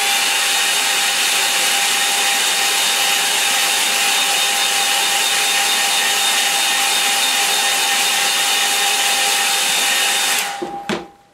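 A hair dryer blows steadily on a wet-in-wet watercolour painting of a lakeland scene, a loud continuous whooshing drone with a fixed whine that runs alone for about ten seconds before being switched off.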